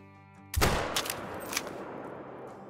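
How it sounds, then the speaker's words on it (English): A single 22-250 rifle shot at a feral goat in the hunting game Call of the Wild, a sharp loud crack followed by a rolling echo and fading reverberation, with no voices. "So let's bust out the 22-250 here and go for about a 220-yard shot."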